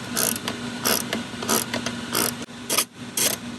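A ratchet wrench turning a very long bolt during a repair on a race wagon, rapid rhythmic clicking in repeated bursts with short pauses between strokes, close and fairly loud with no talking.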